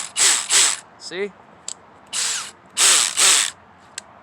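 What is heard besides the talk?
DeWalt 12V cordless drill clutch ratcheting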